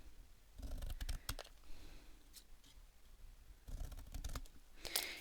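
Scissors snip bobbin tag charms into sections in a few quiet, quick bursts of crisp clicking cuts separated by short pauses, close up with a low room hush between.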